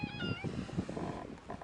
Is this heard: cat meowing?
yes